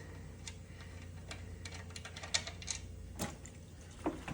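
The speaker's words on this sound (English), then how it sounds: "this is a 13mm on the oil drain. We'll get that loosened, get her draining." A wrench loosens the 13mm oil drain bolt on a 2017 Hyundai Sonata 2.0L turbo, giving a faint, uneven series of small metallic ticks and clicks close by with no speech.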